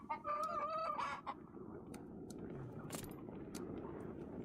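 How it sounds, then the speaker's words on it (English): A rooster in a video game lets out a short, shrill crow with clucking, loud and near, then fades into a steady hum of game ambience dotted with faint clicks. "At least you have your rooster."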